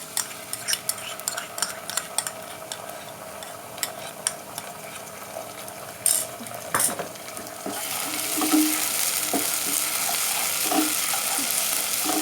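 Onions with ginger garlic paste frying in a pot for handi kabab, metal spoon scraping and clinking in quick strokes, then a steadier loud sizzle taking over near the end.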